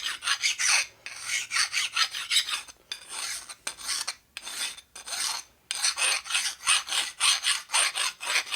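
A hand file rasps along the edge of a custom metal bracket for a Harley, steady push-and-pull strokes repeating in a regular rhythm with brief pauses between runs, close and clear with no talking.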